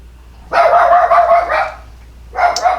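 Toby the dog gives two loud, close barks in short bursts separated by a brief pause, with no talking over them.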